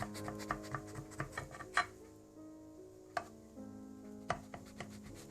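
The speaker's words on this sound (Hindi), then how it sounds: "इस तरह से आप चौकोर पीसेस काट लें इसके।" A knife cuts a tray of baklava into square pieces, giving a run of sharp, close taps and knocks against the pan over soft background music.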